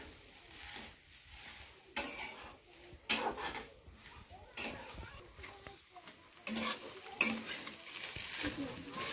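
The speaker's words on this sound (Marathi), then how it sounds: "खोबरं चांगलं लाल होईस्तोवर भाजायचं, असं हलवून।" A spoon scrapes and stirs grated coconut roasting in ghee in a pan for coconut burfi, giving soft sizzling with intermittent sharp clinks and knocks against the metal, fairly quiet and close.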